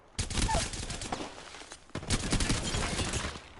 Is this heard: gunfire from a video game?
yes